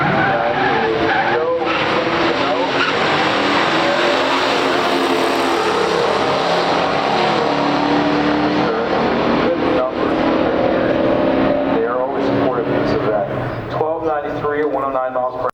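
A 1972 Pontiac Firebird Trans Am and a 1970 AMC AMX drag racing at a strip, loud engine roar and tire noise filling the whole stretch with a commentator talking over it.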